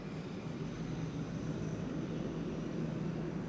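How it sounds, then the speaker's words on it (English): A KLM Boeing 737-800 departs from runway 24, the Kaagbaan, at Amsterdam Schiphol, its jet engines a steady, broad roar heard from a distance with no one speaking. "There it is, KLM flight 1167 to Bergen, a 737-800."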